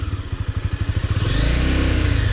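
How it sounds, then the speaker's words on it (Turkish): A Honda CBR250 motorcycle engine idles with a rapid pulsing beat, then revs up into a steady, louder drone, close by with no talk. "Şu an yavaş yavaş gaz ver motor gitmeye başlayınca debriyajı tam sal."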